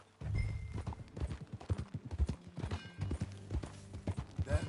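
A horse's hooves clip-clop at a steady trotting rhythm in the Red Dead Redemption 2 game world, close and distinct, with faint background ambience and no talking.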